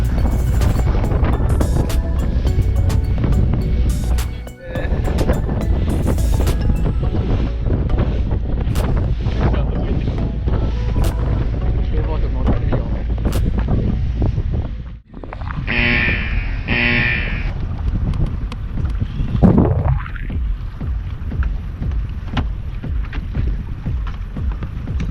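A small fishing boat out at sea off Okinawa rides through strong wind, with heavy buffeting across the microphone and rumbling engine and water noise, loud and continuous, briefly dipping twice; a short voice rises near the end.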